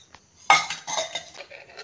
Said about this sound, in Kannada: ಸ್ಟವ್ ಒರೆಸಿ ಬಾಣಲೆಯನ್ನು ಇಡ್ತಾ ಇದ್ದೇನೆ ಸ್ಟವ್ ಮೇಲೆ.